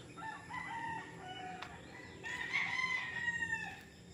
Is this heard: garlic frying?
no